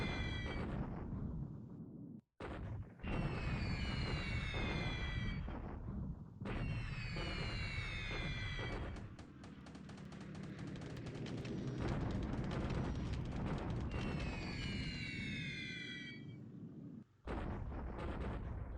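Artillery fire and explosions in the War in the Pacific Admiral's Edition strategy game: repeated heavy booms and crackling blasts, with descending whistles of incoming shells, come in loud, dense waves with brief gaps and no talking.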